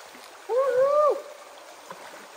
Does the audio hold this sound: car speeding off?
no